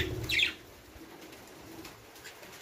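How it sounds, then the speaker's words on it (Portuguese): Birds flap briefly in an aviary, a short burst of wingbeats with a soft coo at the start, then quiet background. "aí vocês vão ver as aves voando, logicamente"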